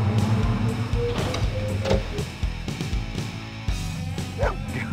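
A dog barks a few times in the Blade Runner video game, short yips mixed with a low game soundtrack and other background noise.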